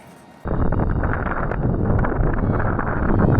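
Strong outdoor wind over a lake buffets the microphone in a steady, loud rumble that starts abruptly and continues without a break; no voices are heard.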